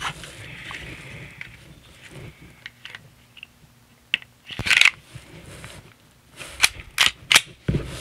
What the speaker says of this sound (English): Now I'm taking this Strike Industries slide and reassembling my Glock.